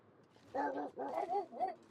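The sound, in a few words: dog barking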